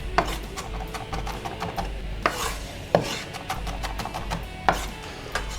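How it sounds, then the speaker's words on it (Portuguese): A knife cuts half an onion on a board, with several distinct sharp taps spaced irregularly over a low rubbing and scraping background, fairly close and quiet. "Estou cortando aqui, então, meia cebola."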